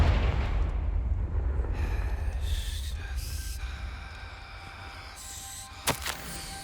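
A Confringo blasting spell explodes in the Hogwarts Legacy video game: a deep rumbling boom at the start rolls off slowly, followed near the end by a brief sharp crack.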